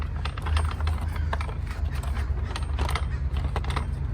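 A car jack being loosened from its hook mount gives off close mechanical clicks, ratcheting ticks and creaks over a low rumble, scattered irregularly; no talking.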